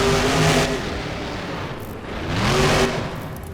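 Truck engine in a stunt game revving hard after landing a jump over a motorhome, two loud surges of throttle with a brief lull between, close and harsh with no talk.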